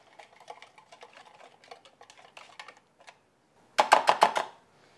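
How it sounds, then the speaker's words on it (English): Whisk mixing two tablespoons of mayonnaise into a salad dressing for a keto steak salad: light scattered taps, then a loud burst of five quick, close clinking strokes against the bowl. "Just gonna whisk this together."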